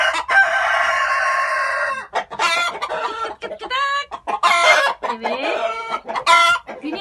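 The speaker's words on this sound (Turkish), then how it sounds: "Bunlar da bayan tavuklar." Hens cluck and squawk continuously and loudly, overlapping calls with some drawn-out crowing-like notes mixed in, close by.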